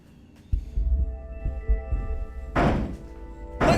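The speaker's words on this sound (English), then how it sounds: "Bang all you want, it won't open." Heavy thuds of fists banging on a locked door in the video game Zero Time Dilemma: a series of dull, booming knocks with a resonant hum, followed by two louder, harsher bangs near the end.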